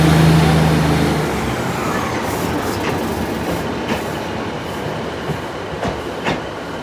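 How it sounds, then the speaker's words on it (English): A Northern passenger train runs through Sheffield station, a steady rumbling roll of wheels and carriages with faint rhythmic rail clicks and a low hum, continuous and fairly loud throughout. "The 1305 Northern train service at it,"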